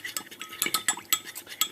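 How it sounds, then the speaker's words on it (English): Quick close stirring of a cornstarch and honey sauce, a rapid run of light metallic clinks and scrapes against the container. "I'm going to give it a good stir"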